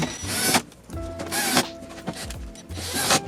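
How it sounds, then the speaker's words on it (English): Phillips head screws being driven into a 2013-2017 Honda Accord dashboard during a CarPlay unit install, heard as three separate bursts of ratcheting, whirring driver noise close up, with quiet pauses between them and no talking. "now we'll put the top 3 Phillips head screws in"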